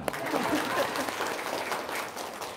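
Applause from a seated audience at a live religious talk, steady dense clapping filling the whole stretch at moderate loudness with a faint voice underneath.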